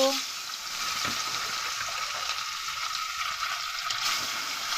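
Salt-and-turmeric-coated pieces frying in hot oil in a wok, a loud, dense, even hiss of bubbling oil that holds steady throughout.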